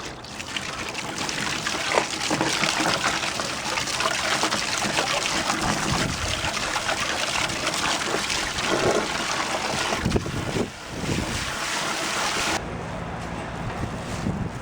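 Water sloshes and trickles continuously as Bissell PowerForce vacuum parts are washed in a bin, a close, steady splashing wash with brief pauses and no talking.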